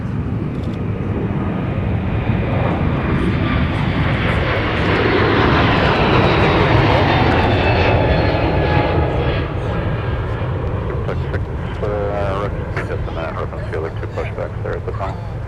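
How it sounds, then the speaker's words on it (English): A Delta Airbus A321neo takes off with a loud, sustained jet roar that swells and slowly fades as it climbs away, with voices talking over it. "here's a Delta A321neo taking off"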